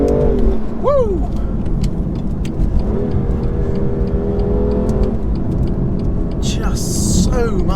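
A 2019 BMW M2 Competition drives on the road, its engine rumbling and pulling through gears with rising and falling tones while the driver talks over it.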